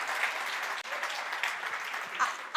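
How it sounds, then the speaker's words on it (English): Forum audience applauding the Brand South Africa team, a dense, steady wash of clapping from a large room, moderately loud and unbroken, with faint voices beneath. "can we give them a big round of applause?"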